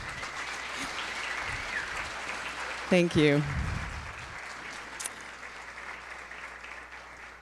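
Applause from the audience at the 2016 Oregon Conference on Aging honors the members of the Governor's Commission, a steady wash of clapping with a short spoken phrase breaking in partway through.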